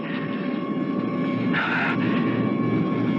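A steady, close airplane engine drone hums throughout, with a brief brighter swell partway through, set as cabin background in a 1975 radio drama.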